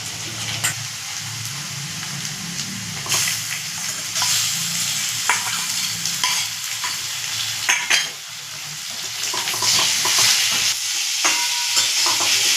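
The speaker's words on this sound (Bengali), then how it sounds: "এবার আমি চিংড়ি মাছ দিয়ে দেবো" Prawns stirred into a pan of frying potatoes and spices tempered with five-spice and dried chillies, a steady oil sizzle with frequent scraping stirs of a spatula, close and continuous.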